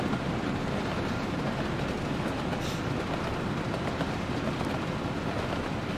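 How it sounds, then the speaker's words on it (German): Train rumbling along in the Soviet-era city-building game Workers & Resources: Soviet Republic, a steady, loud wash of rolling rail noise that continues without a break and has no voices over it. "Alter, ist der Zug so laut?"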